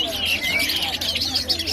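A caged hwamei (Chinese thrush) singing at a busy bird market, quick bright warbling phrases over a murmur of crowd noise and nearby chatter.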